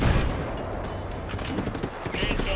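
Rapid gunfire in Just Cause 3 rattles continuously at the player's character, dense overlapping shots filling the whole stretch with no pause.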